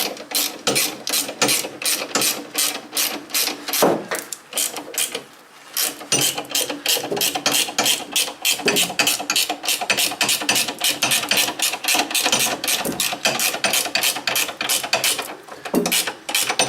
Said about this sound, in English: I'm using 19 ratcheting wrench, so this doesn't take very long. Just going to go back and forth and tighten these down.